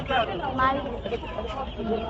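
Chickens at a busy poultry market cluck and squawk close by, mostly under continuous nearby talk.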